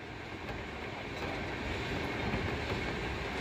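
Steady rumble and rattle of a passenger train running on rails, heard from on board during a long pilgrimage journey toward Prayagraj, a continuous close roar with faint clatter throughout.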